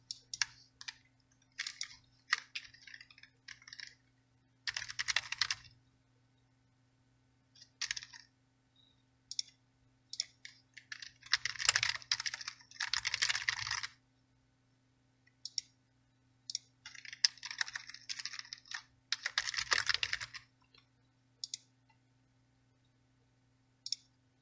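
Bursts of computer keyboard typing with scattered clicks while information is entered into a form, coming in short irregular clusters separated by pauses, close and moderately quiet, with a steady low hum underneath.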